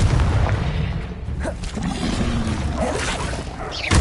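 A Confringo fire blast spell in the video game Hogwarts Legacy bursts with a dense, roaring explosive whoosh over heavy low rumble, loud and sustained with a few sharper cracks.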